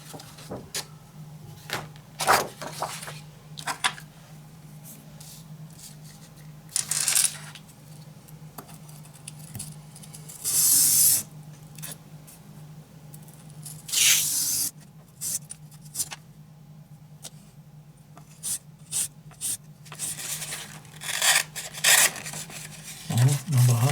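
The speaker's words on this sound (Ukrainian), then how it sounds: "Зараз ще може тисячною пройтись наждачкою" Ice auger blades are sanded by hand with 1000-grit sandpaper. Short bursts of dry rubbing scrape in and out over a faint steady hum, with pauses between the strokes.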